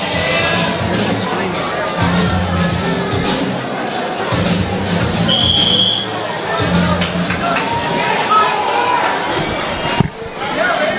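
Crowd noise from spectators filing into a caged fight event venue: steady murmuring chatter with occasional shouts and whoops, dense and continuous throughout.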